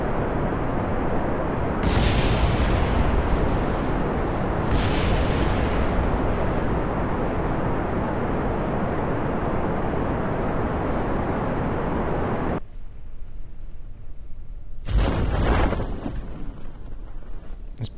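A rocket engine blows apart in Kerbal Space Program, a loud, dense rumbling roar that swells in bursts and runs for most of the span before cutting out, followed by a short, sharp crackling burst near the end.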